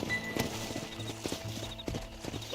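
Steady clip-clop of horse hooves at a walking pace in Red Dead Redemption over a low rumbling game background, with a brief whinny-like accent.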